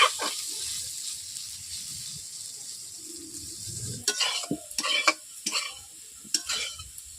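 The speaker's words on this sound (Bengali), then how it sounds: "আলুগুলোকে আমি এইরকম করে আমি 5 মিনিট ভেজে নিচ্ছি।" Potatoes fry in a pan for a vegetarian paneer dish, sizzling softly at first, then a series of loud scraping stirs in the second half.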